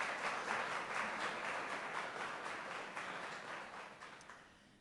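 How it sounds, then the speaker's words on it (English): An audience at a computing conference opening event applauds, a steady wash of many hands clapping that fades slightly toward the end, heard at a moderate distance in a hall. "So maybe they deserve a big applause for supporting this event."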